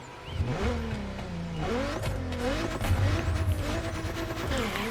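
A Pagani Utopia supercar engine in The Crew Motorfest revs, swooping up and down through gear changes, with a brief tire squeal, steady and moderately loud with no talking.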